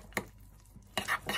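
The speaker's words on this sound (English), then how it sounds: "keep stirring until it's all melted into the oats" White chocolate spread being stirred into oats, with a few scraping, sloshing strokes of a spoon against the bowl, louder toward the end and heard alone without talk.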